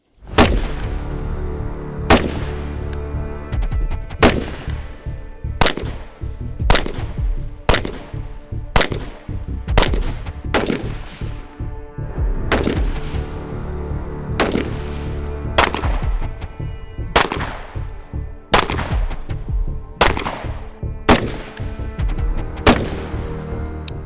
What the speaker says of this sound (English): So here's our non-distressed pistol shooting.